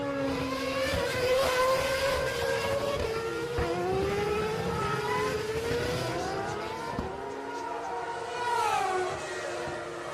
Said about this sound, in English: cars coming across the start-finish line for a curious start to this Japanese Grand Prix